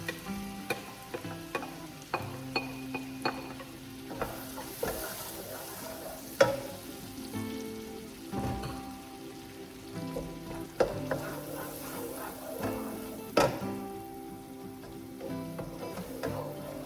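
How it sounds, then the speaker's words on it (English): Onion sweats gently in butter and oil over very low heat, a quiet, steady sizzle with light crackles and spoon taps and stirring knocks scattered throughout, close by with no talk. "to sweat off the onions, I'm going to do it at a very low heat"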